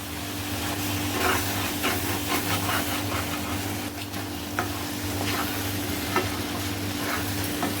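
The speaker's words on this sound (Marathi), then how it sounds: "हलवा मिक्स करा व्यवस्थित नाही तर खाली लागते" Carrot halwa simmering down in milk hisses and bubbles in a pan as a spoon keeps stirring and scraping the bottom, a steady close sizzle with soft rubbing strokes and no voices.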